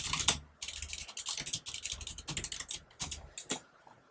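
Rapid, busy typing on a computer keyboard while writing code, a dense run of close clicks and clacks in short bursts with brief pauses, alone without talk.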